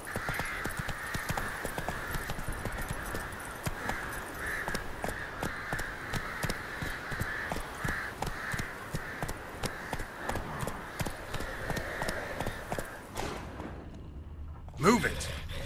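Roach, the horse in The Witcher 3 game, gallops in a steady rhythmic beat of hoof thuds with a faint whooshing bed of air, then slows to a halt near the end with a brief scuffing sound.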